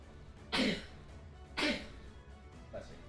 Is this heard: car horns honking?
no